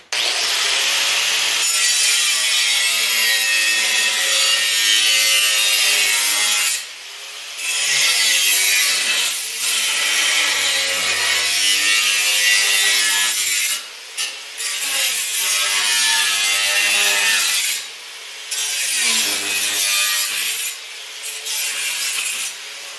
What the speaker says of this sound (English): I'm going to cut that off there, so I'll get this piece cut out now